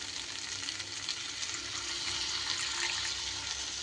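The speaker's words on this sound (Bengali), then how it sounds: "এবার জল এখানে আমি অ্যাড করে দেব" Water pours into a simmering pot of potato, pumpkin and coconut curry with slit green chillies: a steady, close hissing splash with sizzling underneath, even throughout.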